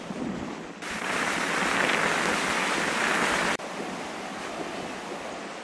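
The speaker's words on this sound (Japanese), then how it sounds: "まだ低気圧や台風の時にしか吹かない方向から風が吹いているものの、だいぶ穏やかさを取り戻しました。" Strong wind and surf at a hotel pier in Chuuk, Micronesia, the day after a typhoon: a steady loud roar of gusting wind and breaking waves, with heavy microphone buffeting through the middle.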